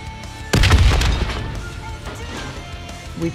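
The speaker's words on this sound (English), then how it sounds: "The explosion blocked our path." A loud, sudden explosion in the Black Ops 3 video game, a heavy booming blast that hits at once and rumbles down over a couple of seconds amid game background noise.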